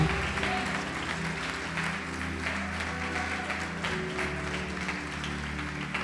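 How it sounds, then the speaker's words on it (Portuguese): A church congregation applauds together, a steady, dense wash of clapping over a low sustained musical drone, with a few voices mixed in. "Pode aplaudir o Senhor Jesus e glorificar."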